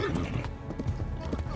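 Horse in the video game Kingdom Come: Deliverance, its hooves clopping steadily under battle noise and a talking voice, with a brief whinny mixed in.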